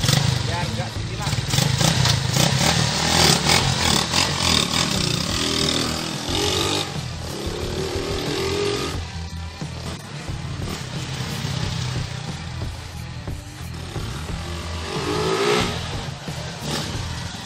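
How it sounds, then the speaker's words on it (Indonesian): A custom Honda Mega Pro motorcycle, modified in the style of a Yamaha XSR900, revs repeatedly, its engine rising and falling in loud, close bursts over a rough idle throughout. "cek spesifikasi atau cek sound dari motor Honda Mega Pro konsep Yamaha EKSR 900 ini"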